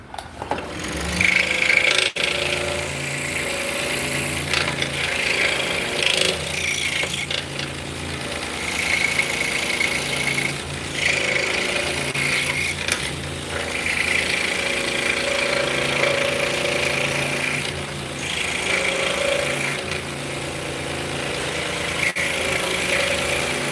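A saw blade makes internal cuts in wood for a drop spindle, a fast, steady buzzing reciprocating chatter that runs continuously at close range, with slight shifts in pitch and load as it cuts.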